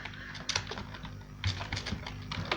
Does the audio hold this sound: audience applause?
no